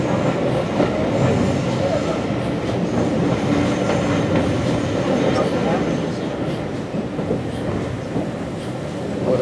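A Class 25 diesel locomotive passes on a heritage railway, giving a steady, loud rumble of engine and rolling wagons throughout, with a faint voice under the noise.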